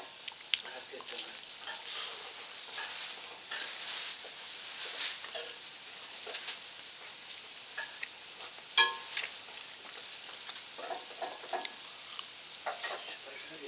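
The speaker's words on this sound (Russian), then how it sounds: "Сейчас пожарить." Food frying in a pan, a steady close sizzle with scattered pops and crackles running throughout, one brief sharper clatter midway, no talk over it.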